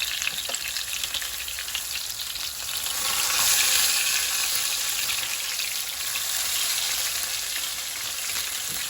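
Pieces of fish fry in oil in a pan, a loud, continuous sizzle and crackle that swells slightly midway and holds steady throughout, with no talking.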